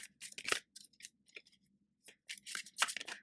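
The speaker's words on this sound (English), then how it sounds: "Parang medyo mag-shuffle yun." Tarot cards being shuffled by hand, a short run of crisp papery snaps and riffles in quick, uneven bursts with brief pauses, close and fairly quiet.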